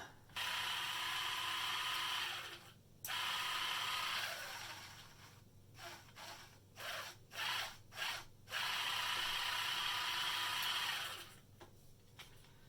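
A Dyson powerhead brush motor rated 22.2 volts DC, run on a 12-volt supply, whirs steadily at close range with a rough mechanical rasp, cutting out briefly near three seconds, then pulsing through several short bursts before a second long continuous run.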